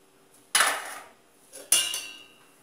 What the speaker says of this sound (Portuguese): Agora eu vou estar abrindo a panela